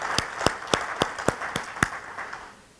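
An audience at a seminar applauds a re-elected rector emeritus with about seven distinct, evenly spaced claps that fade away toward the end.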